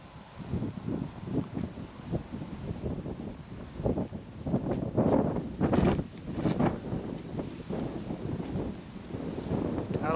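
Wind gusts across an open golf course tee, buffeting the microphone with a rough, swelling rush that rises and falls throughout.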